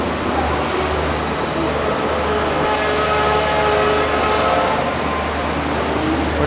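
A train rolls past nearby with a loud continuous rumble and high metallic wheel squeal that cuts off partway through, then carries on as a steady roar.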